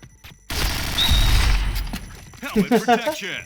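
Gunfire bursts in the online shooter Point Blank, a loud rattling fusillade that fades into a second voice-like burst of sound, with a speaker's voice heard over the game audio.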